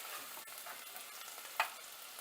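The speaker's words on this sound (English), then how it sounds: "ਇਹ ਥੋੜੇ ਜਿਹੇ ਫਰਾਈ ਹੋ ਜਾਣ ਵਿਦ ਵੈਜੀਟੇਬਲਸ" Cashews fry with vegetables in a pan for Indian-style white sauce pasta, giving a quiet, steady sizzle with a single brief clink partway through.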